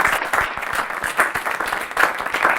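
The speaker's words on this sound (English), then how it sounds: "But anyway, I wonder if you join me in a round of applause." An audience at a panel discussion gives dense, continuous applause, many hands clapping at once, loud and close for the whole stretch.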